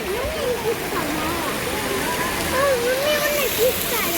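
Continuous splashing of a temple water fountain in Surat, a broad rushing wash of falling water, with voices chattering over it.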